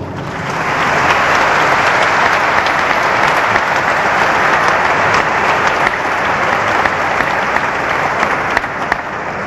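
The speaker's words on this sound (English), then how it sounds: "I think they need your applause." A large audience at a religious debate breaks into loud, sustained applause that swells within the first second and holds steady for about nine seconds, with no voices over it.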